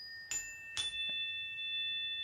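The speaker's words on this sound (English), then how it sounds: "there's the chimes" Bright chimes struck during a short gratitude meditation, two clear strikes with a faint third, each leaving long sustained ringing tones that hang and slowly fade in a quiet room.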